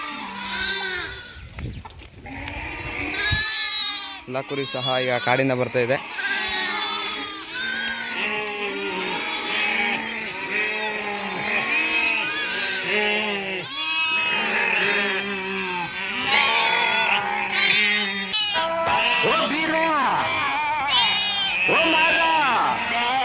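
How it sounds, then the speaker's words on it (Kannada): Sheep and lambs bleat over and over as the flock comes back from grazing in the forest, the lambs running to their mothers. The calls are loud and close and overlap almost without pause, with voices mixed in. "ಕಾಡಿಂದ ಕುರಿ ಬರೋ ಸಮಯ ಆಗಿದೆ ಅದಕ್ಕೆಲ್ಲ ಮರಿಗಳು ಆ ತಾಯಿ ಹತ್ರ ಓಡ್ತಾಯಿದೆ"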